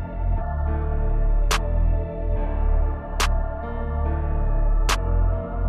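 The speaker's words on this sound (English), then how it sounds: "So we're just starting off with this simple clap and snare pattern." A programmed beat for a dark orchestral track, with a low sustained bed under three sharp clap-and-snare hits landing evenly about every one and a half seconds, up close with no talking.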